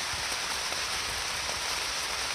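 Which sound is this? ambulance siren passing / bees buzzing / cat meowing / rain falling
rain falling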